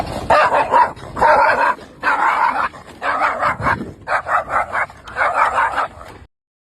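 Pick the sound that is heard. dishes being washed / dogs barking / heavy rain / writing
dogs barking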